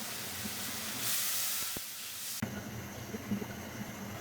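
Water poured into a pan of hot oil with tomato, coriander, ginger, dried chilli and turmeric paste, giving a steady steamy hiss and sizzle that surges, then drops to a lighter bubbling crackle.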